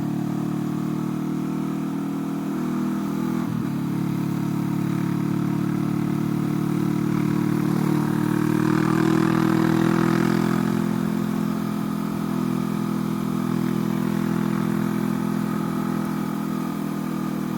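A motorcycle ridden along a road near Palomares, with a steady, loud engine drone and wind rush that swell midway as the pace picks up, then settle back into an even cruise.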